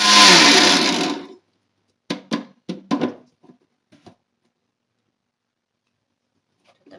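An electric mixer grinder whirs loudly for about a second while blending ground chai masala spices, then stops, followed by a few short knocks and rattles of the jar and lid and then quiet.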